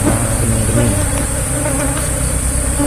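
Apis cerana bees buzz in a dense, steady swarm close by, a loud continuous hum at an apiary.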